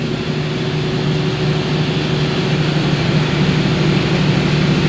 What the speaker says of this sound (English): the main things for this engine is always running about 1500 RPM